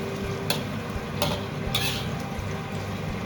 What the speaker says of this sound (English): Add in the oil and then stir-fry the onion slices.